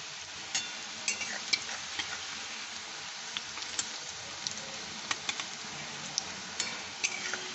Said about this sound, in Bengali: অল্প অল্প করেই দিচ্ছি, দিয়ে এই ভেজে নিচ্ছি।